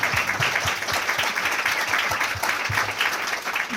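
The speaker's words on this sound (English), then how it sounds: "We'll give her a round of applause." An audience at a Southern Jewish Voices talk gives a steady round of applause, an even wash of many hands clapping, moderately loud and unbroken.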